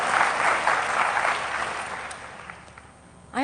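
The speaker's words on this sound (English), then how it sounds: "Now you can clap." Applause from a conference plenary audience for a departing CEO, fairly loud at first and gradually thinning out, then a voice resumes right at the end.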